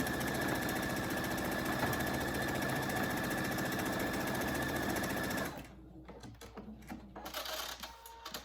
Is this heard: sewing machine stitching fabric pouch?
yes